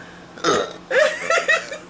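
A person with a long-lasting bout of hiccups gives two or three short, abrupt throaty hiccups in quick succession, close and fairly loud over a faint background hum.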